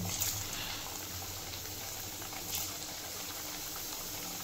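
Semolina pitha frying in hot oil, a faint, steady bubbling sizzle that holds evenly throughout.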